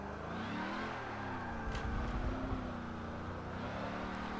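A car engine revs steadily through a handbrake drift entry, a loud, continuous motor drone that swells slightly midway before settling, with no talk over it.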